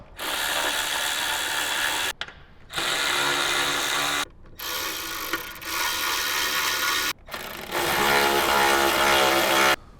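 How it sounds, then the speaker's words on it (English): An electric wrench tightens the speaker mount bolts on a 2014-or-later Harley-Davidson Touring motorcycle, buzzing in four close, loud bursts of about two seconds each with brief gaps, the last run steadier and deeper. "Grab our electric wrench or your hand wrench. Go ahead and get them tightened up."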